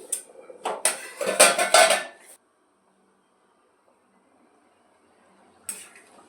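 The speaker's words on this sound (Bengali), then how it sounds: "আমি একটু খুলে দেখি আলুটা সিদ্ধ হলো কি" A metal lid lifted off a pot of boiling potatoes gives a short burst of clatter and scraping in the first two seconds. A near-silent pause follows, then one last brief clink near the end.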